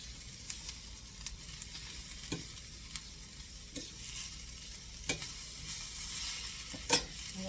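Cube steak and onions sizzling in a pan, a soft continuous fry with occasional sharp clicks of a utensil stirring and scraping, fairly quiet and steady throughout.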